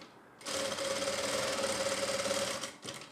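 A sewing machine stitching lace onto a kurti runs in one steady, close mechanical whir with a humming tone for about two seconds, then stops briefly and restarts for a short burst.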